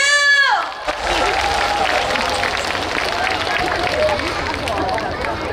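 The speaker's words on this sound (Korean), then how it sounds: "다 같이 박수!" A festival crowd applauds together at an outdoor seaside festival stage, a dense sustained wash of clapping and cheering that follows a singer's brief sung note, continuing steadily with crowd noise throughout.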